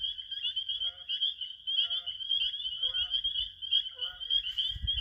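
A spring peeper frog calls in a steady, shrill, continuous trill, loud and close, with low handling or rustling noise near the end and no talking.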